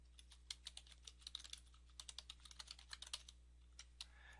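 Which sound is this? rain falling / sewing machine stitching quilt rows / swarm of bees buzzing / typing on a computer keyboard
typing on a computer keyboard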